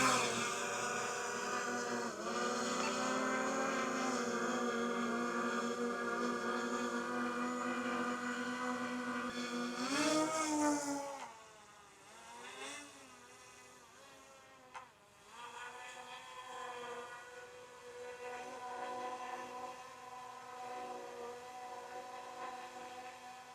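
A DJI Mini 5 Pro drone's propellers drone with a steady high-pitched buzz, loud and near for about ten seconds, then softer and more distant with a wavering pitch as it hovers farther off.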